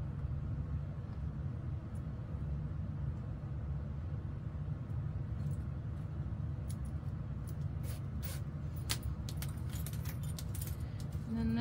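A metal zipper pull jingles and clinks in quick, light bursts while being fitted onto a sewn fabric pouch, close and bright over a constant low hum, with talking during the clip.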